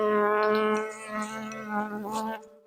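Honey bees, nurse bees shaken into a glass jar, buzz in a steady, close, droning hum that holds for a couple of seconds before cutting off.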